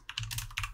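Quick keystrokes on a computer keyboard enter a command, a brief close burst of clicks with no voices.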